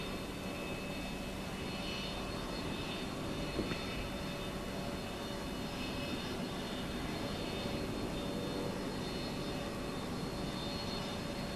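Airbus A330-200 airliner flying a circuit at the Dubai air show in 2000, a continuous loud roaring jet drone with steady engine whine, heard from a distance across the show ground.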